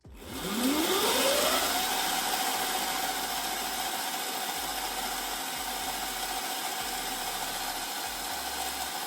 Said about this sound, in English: twist the throttle as slow as possible to max speed